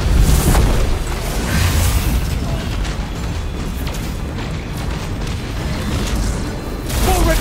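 Missile strikes in Destiny 2 pound continuously in a dense, loud rumbling barrage of booms, heaviest at the start and end, with no speech over it.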